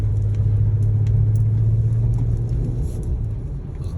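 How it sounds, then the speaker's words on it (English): SUVs and 4x4 cars move along a snowy, icy road during a blizzard. A steady, deep rumble of engines and tires holds throughout, fairly close and with no talking. "Only like SUVs and like 4x4 cars driving on the road right now."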